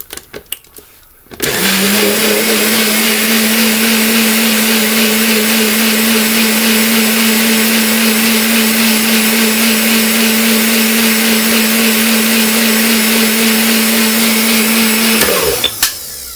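A high-speed bullet blender blending a smoothie starts abruptly and whirs at a loud, steady pitch for about fourteen seconds before cutting off.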